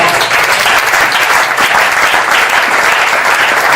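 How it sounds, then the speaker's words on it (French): A church congregation applauds steadily to welcome a visiting pastor from France at an evening service, a dense and loud wall of clapping that keeps going without a break. "Quand il s'approche, nous acclamons le Seigneur, nous invitons le pasteur Christian Kadima"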